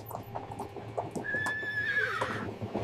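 A horse whinnies in a long rising-and-falling call over the rhythmic clip-clop of hooves, close and clear, with no talking.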